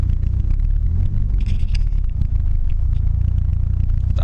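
A Nissan S13 with a turbocharged SR20DET engine drives along, its loud, steady low rumble filling the cabin with faint rattles and road noise throughout.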